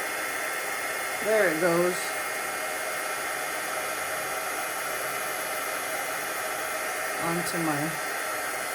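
Heat tool blowing hot air to melt embossing powder, a continuous, loud, hissing whoosh that holds steady throughout, with a voice speaking briefly over it near the start and again near the end.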